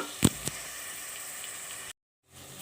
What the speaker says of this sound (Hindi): कीमा डाल के इसे हम अच्छी तरीके से 2 से 3 मिनट भूनेंगे